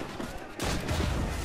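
Gunfire and explosions from a naval battle in the video game Assassin's Creed Rogue, a dense continuous roar of shots that starts abruptly partway through, loud and sustained, with the player's voice faintly underneath.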